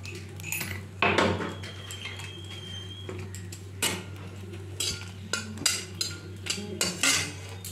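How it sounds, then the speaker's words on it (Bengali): Dried red chillies dry-roasting in a kadai on a gas stove, with a spoon scraping and clinking against the metal in irregular taps and stirs, close and moderately loud over a low steady hum. "একটু শুকনো লঙ্কা টেলে নেব"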